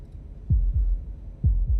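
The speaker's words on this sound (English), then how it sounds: "That was the sound of a heartbeat, followed by another" Two pairs of deep, muffled heartbeat thuds in the video game Slay the Princess, each double beat close and heavy over a low droning background, with no talking.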